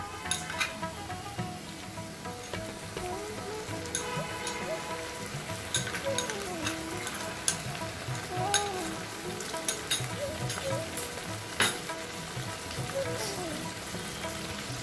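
Ground spice paste of cumin, coriander and green chilli sizzles and crackles in a pan for fish head curry, with a splash of water and frequent spoon scrapes and clinks, close and continuous.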